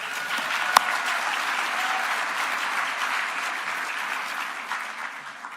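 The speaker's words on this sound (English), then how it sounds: "Round of applause for you." A large audience at a national pro-life summit claps for a Students for Life group, a steady roomful of applause with one sharp nearby clap early on, holding evenly to the end.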